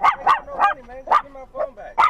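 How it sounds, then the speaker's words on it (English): Dog barking repeatedly in a quick series of sharp, close barks with short gaps, loud and clear. "your dog barking at me like what?"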